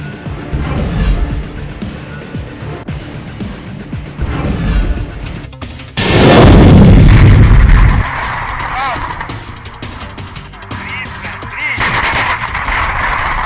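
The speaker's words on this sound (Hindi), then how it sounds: "लगातार फायर करते ही है डोनेट्स्क पीपुल्स रिपब्लिक सेना की सेल्फ प्रोपेल्ड गन, जो यूक्रेन की आबोज आर्मी बेस पर फायर कर रही है" Self-propelled guns of the Donetsk People's Republic army firing at a Ukrainian army base; loud booming blasts with a heavy burst in the middle, over rumbling battlefield noise and a narrating voice.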